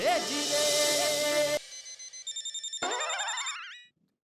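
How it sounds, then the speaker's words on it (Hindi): A telephone rings with a bright, trilling electronic tone, a few repeated bursts that rise and fade, loud and close, with no voices. "किसका फोन है?"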